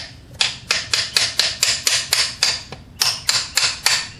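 A hammer taps a rear motor mount into place on a Lexus ES300 V6, about fourteen sharp, evenly spaced metallic blows at close range, with a brief pause partway through and no talking.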